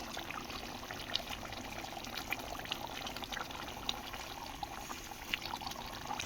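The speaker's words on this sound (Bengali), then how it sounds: "এখন আমি সামান্য অল্প করে একটু জল দিয়ে দিলাম।" Water trickles into a pan of doi catla fish curry, a soft, faint pouring and splashing hiss with a few light clinks, heard close and without any talking.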